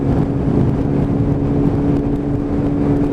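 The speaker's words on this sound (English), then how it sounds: "Dropped a huge rev bomb as he pulled out, woke everybody up" A motorbike pulls out with a loud, sustained engine roar that stays close and steady throughout, with no voices over it.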